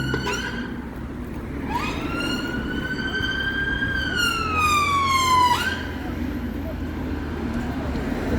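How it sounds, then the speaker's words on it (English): An ambulance siren wails in a street near Muswell Hill, London, one long rising and falling tone that passes close and loud over traffic rumble. "It's not the police, it's an ambulance."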